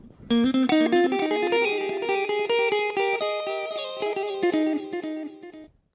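Rapid guitar notes picked in a steady run through a practice amp's digital delay effect, each followed by crisp repeating echoes that blur together before stopping abruptly.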